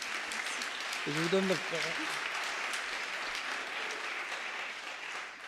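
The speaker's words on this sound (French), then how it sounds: "on peut applaudir cette femme complète" An awards-ceremony audience gives sustained applause for a woman finalist for a digital-sector trophy, with steady, full clapping as a speaker briefly talks over it early on.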